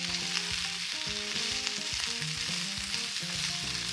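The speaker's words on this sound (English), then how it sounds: "I'm just gonna stir these around for 3 minutes to start the cooking process." Potatoes fry in a skillet and are stirred around, a steady close sizzle with scraping and shuffling under low, sustained background tones, and no talk.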